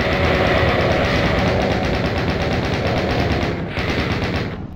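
Rapid automatic gunfire from the video game Doom 2, a dense, loud, continuous stream of shots with no pauses, ending with a brief dip and then a final burst.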